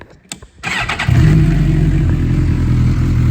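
A 2008 Suzuki GSX-R 1000 inline four-cylinder engine starts with a few clicks and bursts, then settles into a loud, steady idle that continues to the end.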